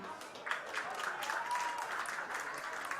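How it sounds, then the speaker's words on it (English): Crowd at a state amateur baseball tournament game claps for a former Minnesota Twin stepping up to bat, a moderate scattered applause with a few distinct claps and faint voices mixed in. "And a round of applause"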